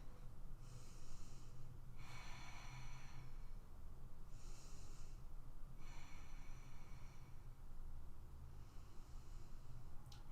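Slow, steady breathing while holding yoga chair pose, with three soft, breathy inhale-exhale cycles evenly spaced and close by, no talking.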